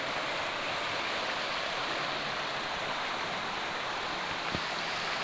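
Water of the Glagah river in Kaliglagah village, near Silumbu cave, flows in a steady, full, broadband rush that stays constant throughout, close and loud with no talk.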